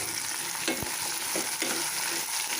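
Turkey berries (sundakkai) sizzle in hot oil with onion, garlic and curry leaves, a steady loud frying hiss with a few soft stirring scrapes.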